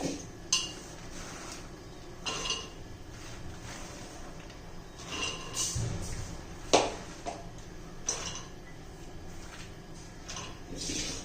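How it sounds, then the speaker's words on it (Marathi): Crushed boiled groundnut pods being loaded into a pressure cooker, giving scattered close clinks, knocks and light clatter against the metal at irregular intervals over a quiet kitchen background. "कुकरमध्ये भरून घेते"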